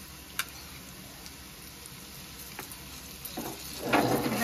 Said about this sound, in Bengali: ভালো করে পেঁয়াজ আর বেগুনের সাথে এবার সব মশলা কষিয়ে নেব।